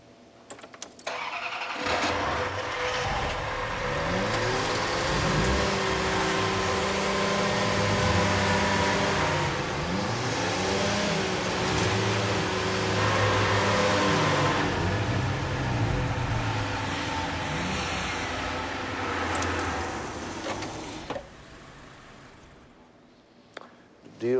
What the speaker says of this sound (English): everybody start your engines.